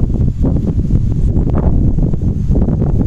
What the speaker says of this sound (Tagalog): Napakalakas ng hangin po dito.